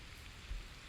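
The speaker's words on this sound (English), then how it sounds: "Why does it have to rain so much?" Rain falls as a steady, faint, broadband hiss with no distinct drops or voices, brief and even.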